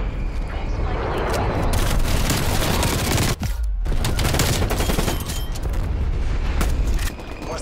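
Dense barrage of bomb-strike explosions and gunfire in a Call of Duty Black Ops Cold War match, loud and continuous with booming blasts and rattling shots, a brief near-silent gap midway, then the rumble continues.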